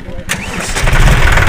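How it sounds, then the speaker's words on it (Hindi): A 5105 tractor fitted with an Agrigate sugarcane rotavator cranks and catches, its engine rising from a brief starter whir into a loud, steady rumble, with voices nearby. "तो भाइयों चलता भी दिखाऊंगा, ट्रैक्टर भी दिखा दूँ इस पे 5105 पे लगा है"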